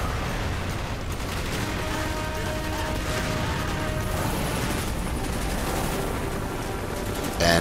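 Dense, continuous gunfire from the Call of Duty: Black Ops shooter game, overlapping rapid shots and bursts forming a loud unbroken barrage with mechanical clatter throughout.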